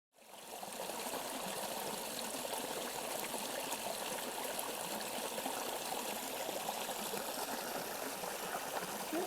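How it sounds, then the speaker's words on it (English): Steady flowing stream along the Appalachian Trail, a continuous close trickling and gurgling of water that holds even and unbroken throughout, with no voices. "Like a real flowing stream"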